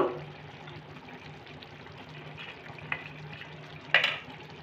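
Stirring a simmering vegetarian jackfruit curry with garam masala on medium heat: a low, quiet bubbling simmer with a soft hum, punctuated by a faint scrape and a louder utensil knock near the end.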